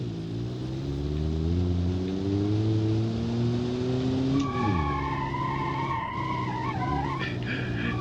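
A car engine strains and revs unevenly as it pulls away from a standstill, pitch climbing then sagging as it nearly stalls, then picking up again, steady and fairly close with no talking.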